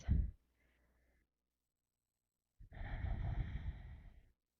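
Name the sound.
slow breathing in and out through the nose during yoga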